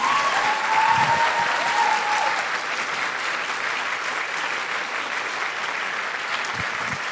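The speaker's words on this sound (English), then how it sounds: "Let's give a huge round of applause to Meghna." Sustained, full applause from an audience after a Bharatanatyam dance arangetram, steady and loud throughout with a brief whoop early on and no speech.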